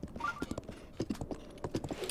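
Horse hooves clip-clop steadily at a walking pace in The Legend of Zelda: Breath of the Wild, a run of close, evenly spaced knocks with no talking.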